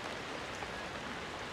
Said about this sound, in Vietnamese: Trời đang mưa lất phất anh chị các bạn ơi.